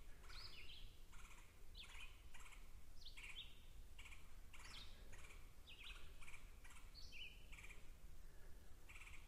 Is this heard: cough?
no